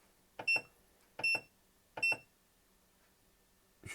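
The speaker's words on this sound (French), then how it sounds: "Quelque chose de très très ennuyeux, c'est le bip qui est hyper fort." The PVmate solar router gives three loud, shrill electronic beeps as its menu button is pressed, each a quick double-pulse tone spaced evenly apart, close and piercing, with a fourth press-click starting at the end.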